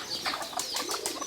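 Pigeons gather at a village house to be fed, giving a faint, soft flutter of wings mixed with low cooing over a brief moment.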